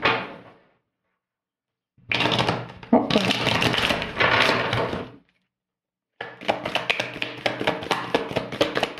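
Tarot cards shuffled and drawn by hand, loud close bursts of riffling and tapping in several separate runs with short silent gaps.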